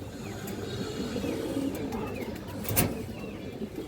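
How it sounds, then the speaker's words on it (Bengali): Pakistani Rampuri highflyer pigeons keep up a steady, low cooing in a loft, with a brief sharp rustle partway through and no voices. "পাকিস্তানি রামপুরি বা হাইফ্লার কবুতর"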